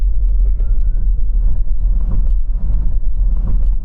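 A Mercedes EQS SUV, an electric luxury SUV, makes a 0 to 60 launch, heard from the cabin as a loud steady low rumble of road and wind noise with no engine note and no voices.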